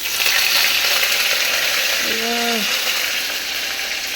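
Green chillies hit hot oil with mustard seeds in a pan, producing a close, steady, crackling sizzle; a short tonal squeak briefly cuts through midway.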